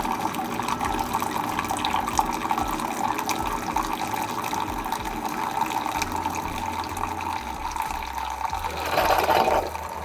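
Water runs steadily through a Keurig coffee maker during descaling, a continuous gurgling flow with a low pumping rumble underneath and a slight swell near the end.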